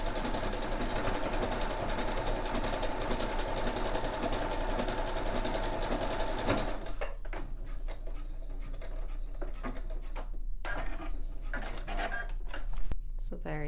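A sewing machine backstitches fabric for a grow bag, running in a steady, fast mechanical chatter for several seconds, then slowing to irregular clicks and thumps. A voice talks quietly over it.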